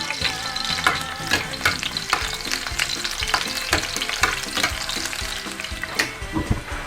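Garlic frying in plenty of cooking oil for beef shank kare-kare, a continuous close sizzle broken by frequent scraping stirs, with no voices.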